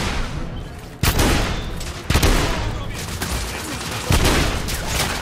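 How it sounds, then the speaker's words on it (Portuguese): Gunfire in the PS4 video game The Order: 1886 lands as sharp, heavy shots at roughly one-second intervals over a constant background din, loud and close. "Onde tá vindo esse tiro?"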